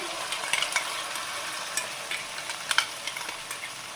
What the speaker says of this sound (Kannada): ನೋಡಿ ಈರುಳ್ಳಿ ಫ್ರೈ ಆಗಿದೆ.